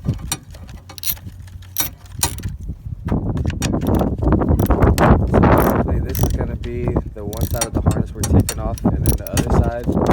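Two 8 mm bolts come off a box on an Acura RSX Type S during a K20Z1 engine swap, with close, loud ratcheting and clanking of tools and metal that runs busy and steady, along with some brief handling noise.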